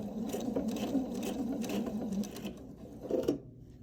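Sewing machine stitching and back-stitching a rope bowl, a fast continuous mechanical whir and clatter up close, slowing with a brief stop and restart near the end.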